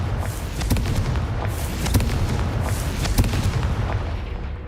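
Confringo fire spell blasting in the Hogwarts Legacy video game: a dense, loud wash of explosive rumble runs throughout, with a few sharper booming bursts standing out along the way.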